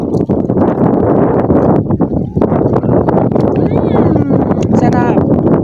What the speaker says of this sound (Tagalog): Mahangin po kasi.